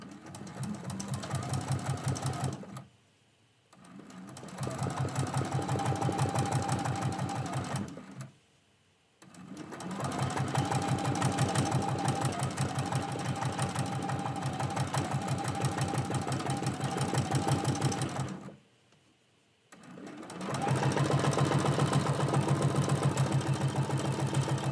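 A sewing machine runs in three long, steady bursts of continuous stitching across a quilt block for a quilt-as-you-go Christmas quilt, loud and close, separated by short pauses of near silence.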